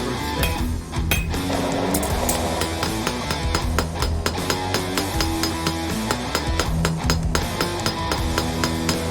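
A blacksmith's hammer rings against a fire poker workpiece on an anvil in rapid, repeated metallic strikes, bright clanging blows with resonant tones, close and loud throughout.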